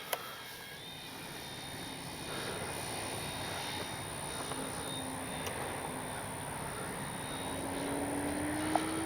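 Steady buzzing drone of a model F4U Corsair warbird engine during takeoff, rising slightly in pitch and volume toward the end as it picks up speed.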